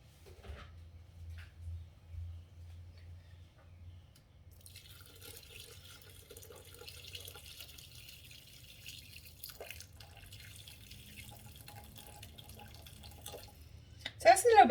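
Boiling water is poured into the bowl of a Thermomix TM6 for a soubise sauce. It makes a faint, steady trickle and splash that lasts several seconds in a quiet kitchen, with a sharper clatter right at the end.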